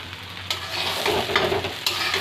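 Chopped green chillies tossed into rice and lentils frying in a pan for khichuri, a close crackling sizzle with scraping stirs and a few sharp clinks of the spatula.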